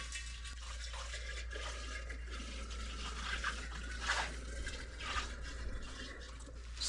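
Close to eight quarts of sake pour through a funnel into bottles, a steady gurgling trickle with splashing swells, quiet and close, with no talking.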